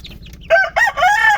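Backyard chickens, a hen with her eleven 40-day-old chicks, peep faintly at first, then a loud rooster-like crow and clucking calls come close and clear in two bursts over steady low background hum.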